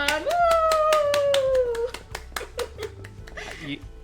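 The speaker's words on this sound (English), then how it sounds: "but I'm actually clapping" A string of quick, sharp hand claps in a steady rhythm, close by, while a voice calls out a long cheering whoop and others laugh.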